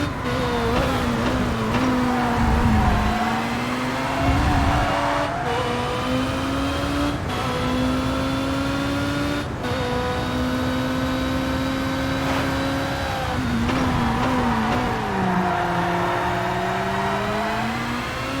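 A DTM race car engine in TOCA Race Driver 3 howls continuously, rising through the revs with brief dips at gear changes, loud and close for a sustained lap.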